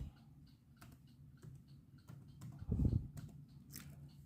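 Quiet, irregular key clicks from a computer keyboard as text is typed into a search bar, close by with a faint background hum.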